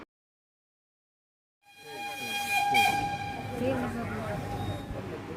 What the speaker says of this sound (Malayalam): ഇങ്ങനെ ഒരു ചൂളം വിളി ട്രെയിൻ സ്റ്റാർട്ട് ചെയ്യുന്നതിന് മുന്നേ ഉണ്ടാകുന്നത്